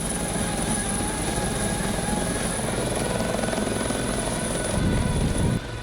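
A military helicopter flies during an Indonesian army hostage rescue operation alongside Anoa armored combat vehicles. Its rotor and engine drone loud and continuous throughout, with a steady high whine on top, and the sound drops off sharply near the end.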